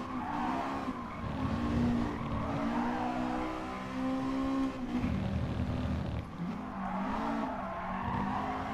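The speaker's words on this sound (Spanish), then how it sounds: "de verdad que se ahoga el auto feo en cuarta" A race car in GT Sport strains in fourth gear, its engine droning and bogging down with wavering pitch and brief drops between pulls, loud and continuous throughout.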